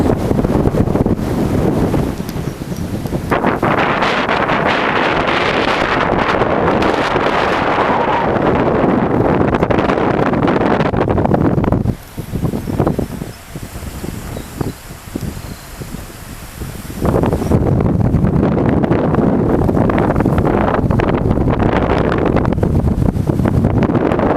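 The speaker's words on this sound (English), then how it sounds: "It's pretty windy." Loud, gusty wind buffets the microphone in a roaring rush on top of the Sleeping Giant in NW Ontario, dropping briefly to quieter gusts midway before surging back strongly.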